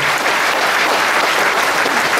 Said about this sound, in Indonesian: Tepuk tangan dulu Ekayana.